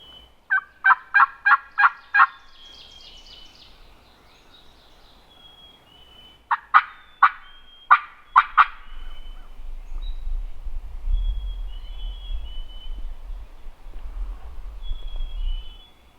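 A wild turkey gobbles in two bursts, each a rapid rattling run of four or five sharp notes, first a cluster early on and another several seconds later, fairly distant in open woods, with a low rumbling background between calls.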